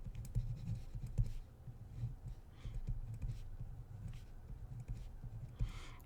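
Pen or marker writing out a math problem on a surface, soft scratchy strokes and taps in irregular bursts, close but quiet under a low room hum.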